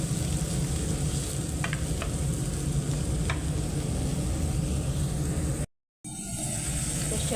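Tomatoes sizzle and fry in a pan while being stirred and crushed, a loud continuous crackling hiss with occasional scrapes, cut by a brief silence near the end.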